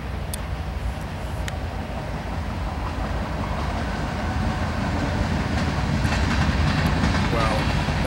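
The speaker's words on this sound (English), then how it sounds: "Here comes the Kansas City Southern Railroad." Kansas City Southern freight train passing on the railroad, a low rumbling roar with rhythmic wheel clatter that slowly builds louder, heard outdoors from nearby.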